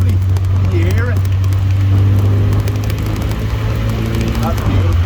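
A 1978 MGB Roadster engine idles with a steady low rumble, while a voice talks faintly over it.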